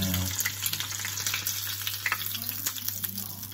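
Battered tempura prawns frying in hot oil, a steady close sizzle and bubbling that runs throughout with no talk.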